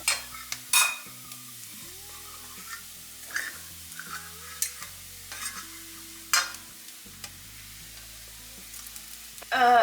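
Shredded cooked chicken dropped into browned grated coconut and stirred in a pan, with soft frying crackle under scattered clattering spoon scrapes and taps over a low background hum.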